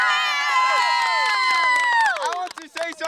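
A team crowd of young players at a Unified Soccer event cheers loudly on cue, a burst of shouting voices that fades into scattered calls.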